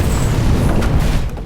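A truck bomb explosion in a film rumbles as a loud, deep, sustained boom lasting about a second and a half.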